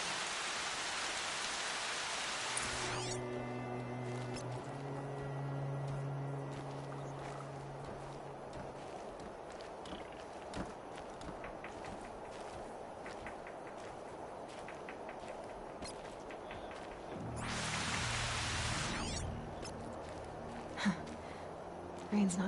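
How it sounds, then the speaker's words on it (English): Rain falling in the video game Horizon Zero Dawn, a soft, even hiss of drops on the ground near a river, quiet and continuous, with faint low tones and brief brighter bursts of game sound at the start and near the end. "Rain's not so bad."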